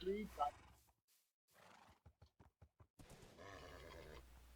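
A horse in the Minecraft video game whinnying near the start, followed by a quick run of clip-clop hoof sounds and a final snorting neigh, with a person speaking over the game audio.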